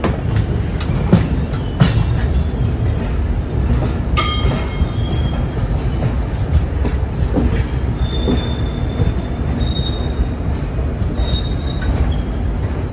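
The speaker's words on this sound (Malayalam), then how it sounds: "അപ്പോൾ നമ്മളും ആ അപ്പുറത്തെ ആ ഡബിൾ സ്റ്റാക്ക് ഗുഡ്സും കൂടെ ഒരുമിച്ചാണ് കയറുന്നത്." A Bandra–Jaisalmer superfast express pulls into a station beside a double-stack freight train, with a loud, continuous rail rumble, wheel squeals and scattered metallic clanks throughout and no voices.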